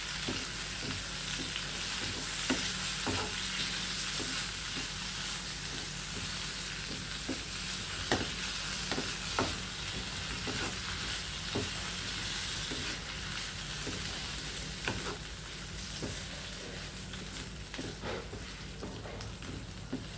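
Curry leaves fry in hot oil with green turkey berries and eggplant, a continuous close sizzle broken by scattered pops and occasional stirring clicks from a pan, with no voices.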